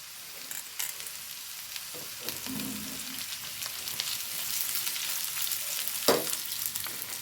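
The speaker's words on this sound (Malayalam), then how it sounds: "ഇനി ഇതിലേക്ക് സവാളയാണ് ഇട്ട് കൊടുക്കുന്നത്" Sliced onions frying in hot oil in a pan while an egg fry is cooked, giving a steady close crackling sizzle with a few soft stirring scrapes and knocks, no one talking.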